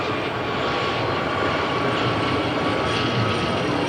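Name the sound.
Gazelle helicopter flying in display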